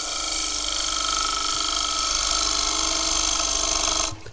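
A steel gouge cutting the bottom of an ambrosia maple bowl spinning on a wood lathe, a steady high whirring shear with a constant motor drone, close and loud, stopping abruptly at the end.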